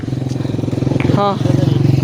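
A motorcycle engine running on a Pakistani road, a steady, loud pulsing drone throughout, with a voice speaking over it.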